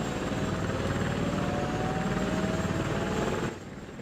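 A steady, droning aircraft engine hum from the video game Oni holds constant and loud, then drops slightly in level near the end, with no voices over it.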